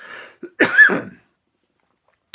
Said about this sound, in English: I got a cough, excuse me.